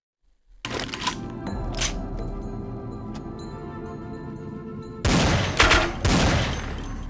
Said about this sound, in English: I think I'll have to use a gun again